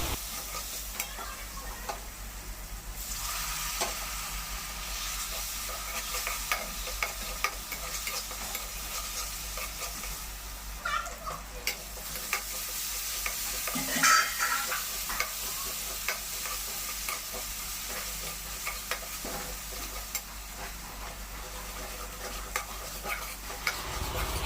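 Spice masala with red chilli powder and salt fries in a pan, giving a soft, steady sizzle. A spatula stirs it with light, irregular scraping taps throughout.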